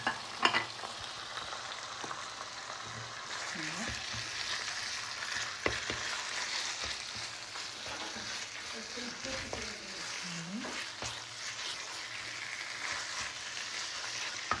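Kofta minced meat frying in a pan as filling for stuffed potatoes, with a steady close sizzle throughout and occasional scraping and stirring sounds.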